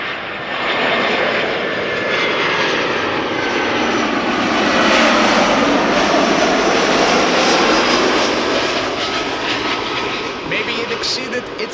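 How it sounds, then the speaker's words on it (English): An Airbus A320 airliner arriving from Dublin touches down, its jet engines roaring loudly and rising to a peak before easing off slightly, with a voice talking over the noise. "Shamrock flight 604 arriving from Dublin, Ireland. A320 touching down."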